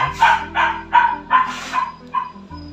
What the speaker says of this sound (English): My dog is just trying to be a part of this video too much